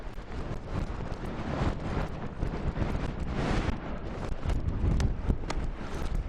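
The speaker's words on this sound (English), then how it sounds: "it's a wee bit windy. I don't know if you can hear that." Gusting wind buffets the microphone at a wild campsite in the Trossachs, a continuous rough roar that swells and eases in uneven bursts throughout.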